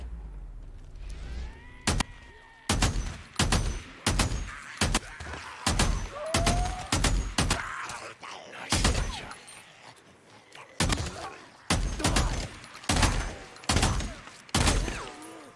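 Repeated MG45 gunfire in the video game Days Gone, sharp loud shots in quick bursts and single rounds at an uneven rhythm, with faint background sounds between shots and no speech.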